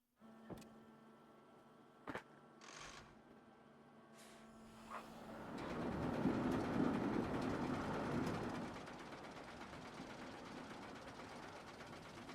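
Runaway mine train roller coaster ride in a video game: a few sharp clicks and clanks at first, then a faint, sustained rolling rumble of the cars on the track that swells and continues to the end.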